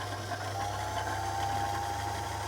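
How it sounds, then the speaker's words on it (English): Electric motor of a Singer Featherweight 221K Centenary sewing machine running steadily with the stop-motion clutch undone for bobbin winding, a continuous close, even hum with a faint whirring rattle throughout. "Motor sounds good. It's quite strong."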